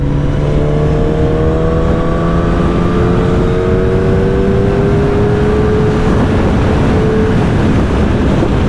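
A Kawasaki ZX10R motorcycle engine pulls hard under acceleration, its rising whine climbing steadily over strong wind rush, loud and close throughout with no talking.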